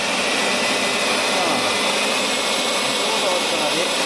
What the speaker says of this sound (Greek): από αυτή τη συσκευή που φυσάει αέρα.